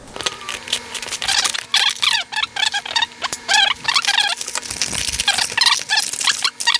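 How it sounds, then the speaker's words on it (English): Sony WF-1000XM3 earbud box being unpacked: close crinkling, squeaky cardboard and plastic packaging handled in busy bursts, with scraping and rubbing throughout and no talking. "let's see what we have in the box here"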